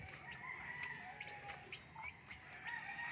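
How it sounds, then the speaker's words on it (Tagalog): Chickens and turkeys at a family farm in the Philippines cluck and call over a steady outdoor background, with a few faint crowing and gobbling notes drifting in at moderate distance. "May pabo, may manok."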